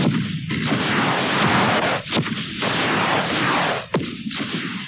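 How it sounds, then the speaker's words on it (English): Fireworks bang and burst continuously in a loud, dense barrage, with sharp cracks and booms overlapping and a few distinct louder pops standing out. "At once, the fireworks began."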